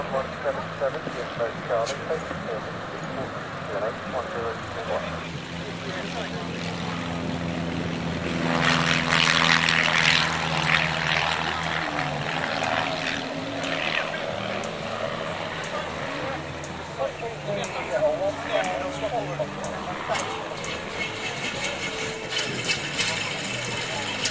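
A propeller aircraft, likely a de Havilland Moth Minor, taxies on a grass airfield at the Shobdon flying festival. The engine drones steadily at moderate distance and swells midway, while a commentator talks over it.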